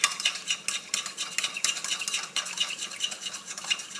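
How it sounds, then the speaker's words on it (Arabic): Salt, black pepper, turmeric, thyme and rosemary mixed together in a bowl for a roast lamb's head, with a steady scraping and clinking of a spoon stirring close by, no voices. "نحط الملح، الفلفل اكحل، الكركم، الزعتر والكليل، نخلطهم مليح مليح"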